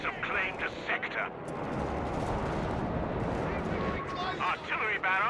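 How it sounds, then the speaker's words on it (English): Artillery barrage pounding a battlefield in Company of Heroes 3, a dense, continuous rumble of blasts and booms filling the clip, with game voice lines heard over it at the start and end. "Artillery barrage on the way. Oh, there's bombs."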